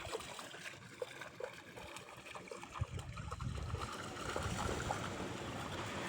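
Water runs into an onion field on a farm plot, a steady outdoor stream with gurgling and trickling that grows slightly louder toward the end.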